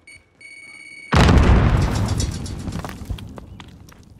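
A grenade detonates in Call of Duty: Modern Warfare, a sudden loud close boom after a brief tonal beep, then a long rumbling decay with faint debris and footstep-like ticks.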